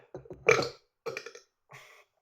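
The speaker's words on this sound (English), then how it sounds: "If I burp, sign of a good beer." A man burps after drinking a Trappist double beer, a close, rough belch broken into about three gulping pulses.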